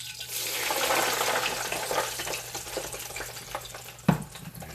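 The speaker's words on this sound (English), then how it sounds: "There's a lot of oil in here, so I'm going to pour most of it out." Excess cooking oil left from frying chicken, with olive oil, is poured out of a pan. It makes a steady, close, sizzling hiss and splash that fades, then a sharp clank.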